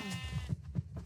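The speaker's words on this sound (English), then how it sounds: "So many cows in this plain." Cows in the Minecraft video game moo several times in quick succession, short low calls repeating in a loose rhythm, close and fairly loud.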